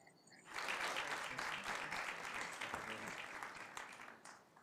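Audience applause at a city council meeting honoring a 50th anniversary, a full room of clapping that rises suddenly, holds steady and begins to fade, with faint voices underneath.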